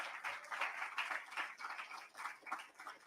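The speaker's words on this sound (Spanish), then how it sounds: "Fuerte el aplauso, por favor" Light applause from a small lecture audience, soft and somewhat distant, with claps pattering unevenly for a few seconds.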